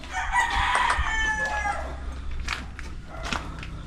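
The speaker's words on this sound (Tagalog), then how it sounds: "Dami palang manok pati doon" A rooster crows loudly nearby while other chickens cluck in the background at a game farm in Benguet, outdoors with steady ambient noise.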